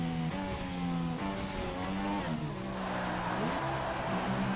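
An F1 car in the F1 2016 racing game rolls into the pits at the German Grand Prix, its engine note steady and buzzing with shifting pitch as it slows, loud and continuous with no talking.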